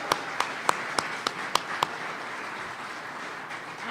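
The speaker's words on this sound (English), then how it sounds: "Another big round of applause to Erin." A few scattered, sharp claps over a low hum of room noise, then quiet; thin and brief rather than a full round of applause.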